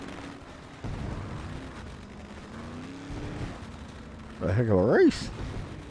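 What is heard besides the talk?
fireworks going off after race at Eldora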